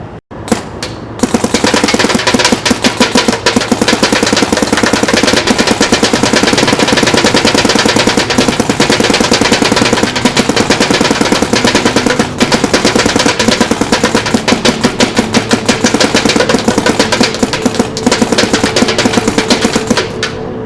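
Dye Rize CZR paintball marker firing on full auto at about 10.5 balls per second: a rapid, steady stream of sharp pops, loud and close, running almost unbroken for twenty seconds with no talk.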